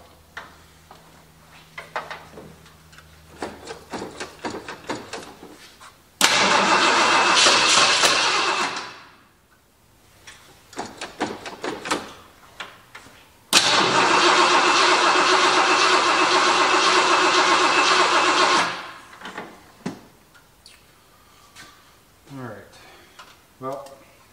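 A 1977 Ford Highboy pickup engine with a bypassed mechanical fuel pump cranks and catches in two long, loud bursts of engine roar, each cutting off, with someone talking near the truck between attempts.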